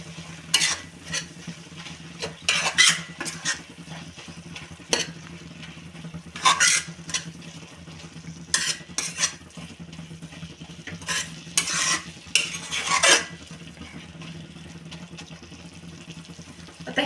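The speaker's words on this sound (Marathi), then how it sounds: "मीठ सगळ्या भाजीला लागेल असं ही भाजी आपल्याला परतवून घ्यायची आहे" Fenugreek greens being stir-fried with salt in a pan, intermittent scraping and tossing strokes of a spatula, arriving in irregular bursts over a low, steady background hum.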